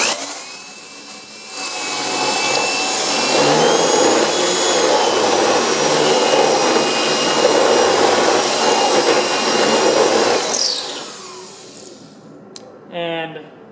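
A drill countersinks a hole in an arcade dance pad, pushed down and spun around: a loud, steady grinding whir that lasts about ten seconds, then winds down into faint clatter.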